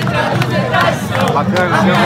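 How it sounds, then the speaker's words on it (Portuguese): Fluminense supporters in a packed stadium at the Club World Cup final, a dense roar of many voices sustained for a couple of seconds, loud and continuous with no single voice standing out. "Os torcedores cantam mesmo aqui com a goleada, 4-0."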